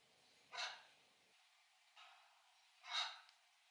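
A dog sits growling in the corner, making three quiet, breathy huffs and grumbles spaced a second or two apart in a hushed room.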